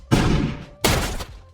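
Two booming blasts from the resurrection cannon in a Futurama cartoon episode, each a loud, broad burst lasting about half a second, separated by a short gap.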